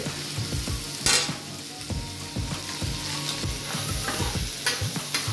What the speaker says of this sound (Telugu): మన ఈ చికెన్ ప్లస్ ప్రాన్స్ ఫ్రై అయిపోయింది దీంట్లో బాగా